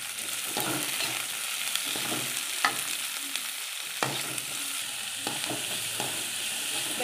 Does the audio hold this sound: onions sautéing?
yes